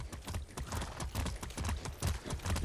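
Horse hooves clip-clop in a steady riding rhythm in Far Cry 6, close and fairly loud, repeated beats over a soft background.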